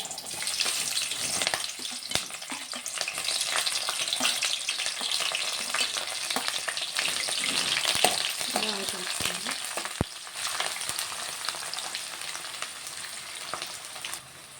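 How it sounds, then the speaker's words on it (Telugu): Onions and green chillies frying in hot oil make a close, continuous crackling sizzle, with occasional stirring scrapes and no voices. "ఉల్లిగడ్డ పచ్చిమిర్చి వేగుతున్నాయండి"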